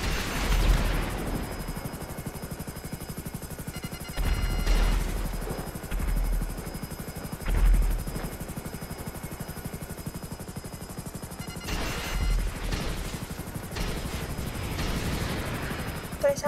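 An FH-1 Hunter helicopter in GTA V Online flies with a continuous whirring rotor drone, punctuated by several loud bursts that sound like weapon fire or explosions.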